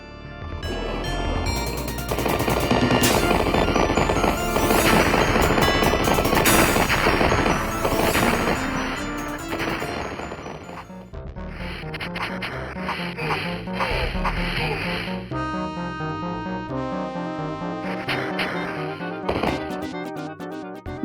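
Arcade Batman game audio plays loud and dense, with rapid bursts of gunfire, crashes and electronic music, busiest in the first half and thinning into choppier synth tones later, with no voices.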